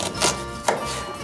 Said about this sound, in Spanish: Ahora vamos a cortar la cebolla